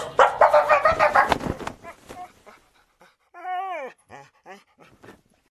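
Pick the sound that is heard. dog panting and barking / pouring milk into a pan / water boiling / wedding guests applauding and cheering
dog panting and barking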